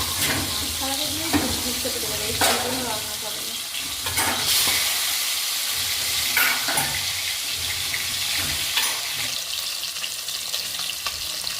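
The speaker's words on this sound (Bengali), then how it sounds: "এবার আমি কড়াটার মধ্যে এক একটা করে মাছগুলো ছেড়ে দেব।" Pieces of rohu fish fry in hot oil in a wok for a Bengali fish curry, giving a loud, constant sizzle broken by sharp clinks and scrapes of stirring.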